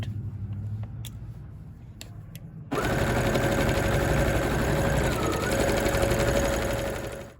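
A sewing machine runs steadily, stitching straight down the front of a Simplicity coat, loud and continuous after a few quiet seconds of faint clicks and handling.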